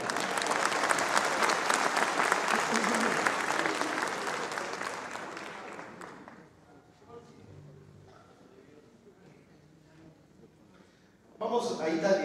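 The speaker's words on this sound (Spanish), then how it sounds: "un aplauso fuerte para el coro" An audience at a concert at Centro Cultural Roberto Cantoral applauds a choir with loud, sustained clapping that fades after several seconds. Faint voices fill the lull, then a fresh burst of applause starts at the end.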